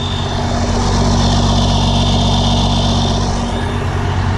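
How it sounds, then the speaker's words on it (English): A bone-stock 12-valve diesel pickup truck roars steadily through its exhaust, loud and close, a deep sustained rumble with a high whine riding on top and no voices. "This bone stock 12 valve screams out that exhaust"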